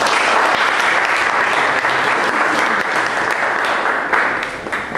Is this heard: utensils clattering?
no